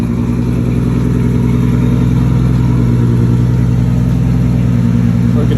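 A five-cylinder engine running at a steady idle in a tuning shop, loud and close with a constant low rumble and even pulsing throughout.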